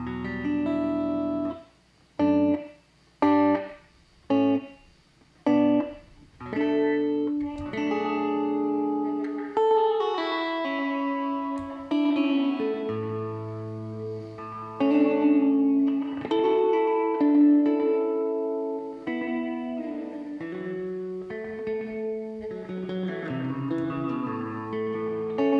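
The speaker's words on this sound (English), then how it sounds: "it combines the delay and a reverb in one package here" Electric guitar played through a Source Audio pedal combining delay and reverb, opening with choppy repeated chords before ringing sustained notes with echoing tails, loud and alone.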